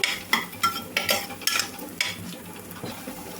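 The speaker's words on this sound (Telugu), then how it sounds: "గోరుచిక్కుడుకాయ ముక్కల్ని ఒక 2-3 నిమిషాల పాటు అయితే ఆయిల్లో వేయించుకోవాలి" Cluster bean pieces frying in oil while being stirred, a run of sharp spatula scrapes against the pan about every third of a second over a low sizzle, close and moderately loud.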